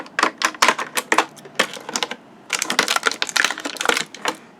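Plastic ties are snipped to free a toy stool with plastic faux-wood legs from its packaging. The sound is a close, loud run of sharp, rapid clicking snaps in two bursts.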